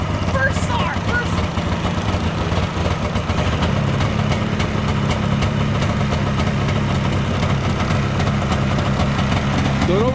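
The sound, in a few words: 1978 Polaris Cobra 440 snowmobile engine starting and idling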